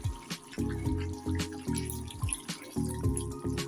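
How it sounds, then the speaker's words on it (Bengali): Hot water pours into a cooking pot of gandharaj lemon chicken, a close splashing, gurgling flow in uneven bursts that stop and start, with no talking. "তো চলো গরম জলটা দিয়ে নিই আর কি"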